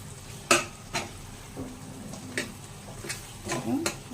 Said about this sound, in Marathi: मग ढवळून घ्यायचं, तेलामध्ये छानपैकी मिक्स करायचं